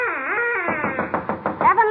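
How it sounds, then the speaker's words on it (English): A turkey-bone duck call gives a smooth, bending tone, then breaks into a quick run of raspy, quacking pulses, close and clear with nothing else behind it. "That noise was a duck call, Alice"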